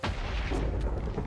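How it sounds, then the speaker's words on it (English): Thunder rolls through a thunderstorm in the Minecraft video game, a heavy, rumbling boom that fills the short stretch, loud and close with no voices over it. "I'm gonna sleep and get rid of that thunderstorm."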